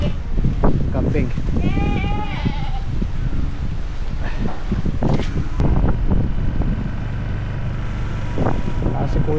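A goat bleats in a wavering cry amid wind noise and people talking outdoors.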